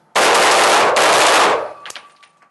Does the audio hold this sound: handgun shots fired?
yes